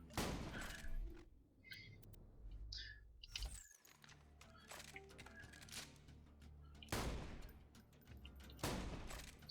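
A Jakobs shotgun firing in the video game Borderlands 2, with repeated loud, cracking blasts at uneven intervals and clattering impacts and debris between the shots.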